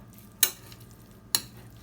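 Two sharp metallic clanks ring out about a second apart as butter and oil are mixed in a wok, over a quiet low background hum.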